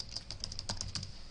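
Short burst of typing on a computer keyboard, several quick close key clicks in an uneven rhythm.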